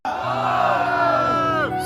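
A large audience at a live singing performance during a jatra festival in Indore shouts together in one sustained, loud collective yell that holds steady before cutting off.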